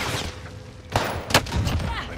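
Video game gunfire from Call of Duty on Rebirth Island: two sharp shot bursts a moment apart, with a player's voice and game noise running underneath.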